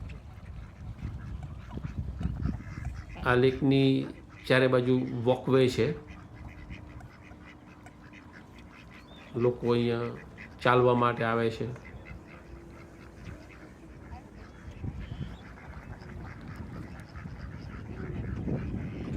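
Ducks quack in two separate bursts of several rapid, nasal calls at Tierra Verde Lake park, close by and outdoors, with someone talking in between and a faint background hum.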